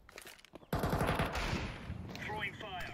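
Rapid automatic gunfire in the Counter-Strike 2 video game, a loud sustained burst of shots under excited gamer voices, with a brief quieter lead-in before the firing starts.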